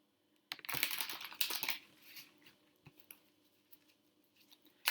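A deck of tarot cards is shuffled nearby, a burst of rapid riffling clicks and flutters at the start that thins into scattered soft taps and card snaps.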